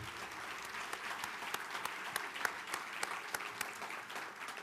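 Faint, distant applause from a banquet audience honoring award recipients, a soft continuous patter of many hands with a few sharper individual claps standing out.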